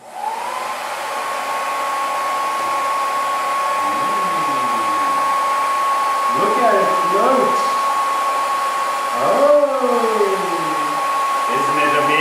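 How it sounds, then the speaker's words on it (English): A hairdryer blows air at a ping pong ball, a loud steady whine that runs unbroken throughout while someone speaks over it. "using just a hairdryer and a ping pong ball"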